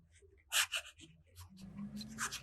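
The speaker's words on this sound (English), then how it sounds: "The next writing sample is done on Leuchtturm 1917 paper." A fountain pen scratches across Leuchtturm 1917 notebook paper in a few quick, close strokes, soft and dry with brief pauses between them, in a quiet room.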